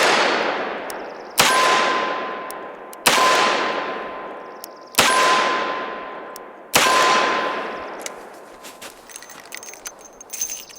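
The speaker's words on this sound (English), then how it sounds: "we're gonna shoot some factory ammo through this and see if we get the same results" Five loud gunshots from a Ruger GP100 revolver firing factory ammunition at a range, each a sharp crack with a long ringing decay, spaced about every one and a half to two seconds, with faint clatter afterward.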